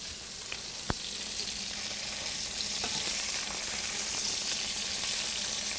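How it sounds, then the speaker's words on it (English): Beef burger patties sizzle steadily in a hot pan, a close, loud crackling hiss with a small pop near the start. "those have been sizzling now for a couple minutes. I just want to flip them real quick"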